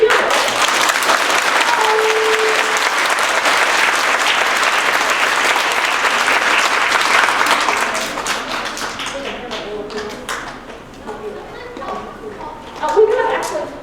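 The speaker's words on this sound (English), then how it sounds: "when you guys clap really loud" Loud, dense applause from an audience at an elementary school winter concert fills the first eight seconds, then thins into scattered claps and fades as a voice begins speaking.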